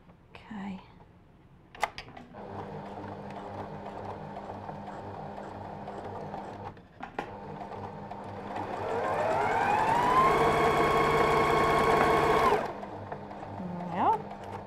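A sewing machine stitching a no-pattern shift dress, its steady motor hum running for several seconds, speeding up into a higher whine, then stopping, close by with brief faint voices before and after.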